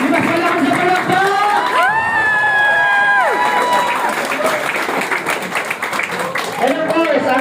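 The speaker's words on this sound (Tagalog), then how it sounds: "Mas malakas sa palakpak!" Louder audience applause and cheering at a massage therapists' networking event, steady clapping with whoops and a sustained vocal cheer, plus a voice over the crowd near the start and end.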